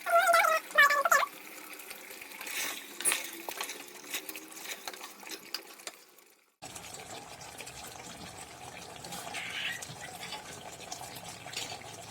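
Water poured into a pot of chicken for haleem, a soft trickling fill under clattering utensils, then a low steady gush after a brief pause, fairly quiet.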